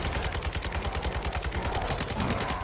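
Kastov and AK rifle fire from a Minecraft Bedrock Edition guns addon, a fast, even stream of loud automatic shots in a close, continuous rhythm lasting the whole stretch.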